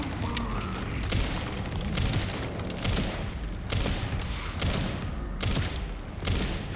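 Rapid gunfire from a weapon emptying its full magazine in the survival horror game Resident Evil Requiem, a dense run of loud close shots with booming impacts across the whole stretch and no pause.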